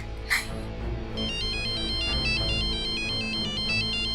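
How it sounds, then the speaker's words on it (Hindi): A mobile phone ringtone plays loudly and steadily, a repeating electronic melody of bright tones that continues through the whole clip. "पवन का फोन बज रहा है।"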